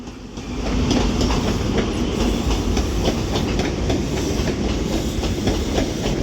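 An HST Intercity 125 train passes at Crewe with loud, steady rolling rumble and clickety-clack of wheels over rail joints, close by and continuous after a short build-up, with no talk.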